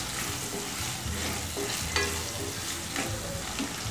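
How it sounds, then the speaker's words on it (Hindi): Soya chilli with spring onion being stirred in a hot pan, a steady loud sizzle and frying hiss with scraping spatula strokes repeating throughout, no voices. "एक सेकंड तक चला लेंगे"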